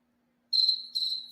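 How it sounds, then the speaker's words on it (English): Two short bursts of high-pitched cricket chirping in a quiet room, close and clear against near silence. "I'm hearing crickets in here"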